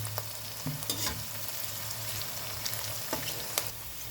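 Cauliflower fries in a pan while it is stirred, giving a soft, steady sizzle with scattered scraping clicks from the spoon and no voices.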